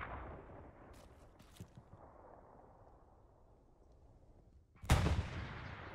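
Artillery cannons fire in Hell Let Loose: faint distant cracks and thuds early on, then one loud close blast near the end with a rumbling tail.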